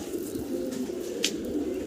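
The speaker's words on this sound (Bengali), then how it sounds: "ভিডিও স্ক্রিনে আপনারা চমৎকার এক জোড়া ড্রাগন কবুতর দেখতেছেন, সাদা" A pair of white Dragon pigeons coos in a soft, continuous low murmur, close by and steady for the full two seconds with a faint chirp near the middle and no talk.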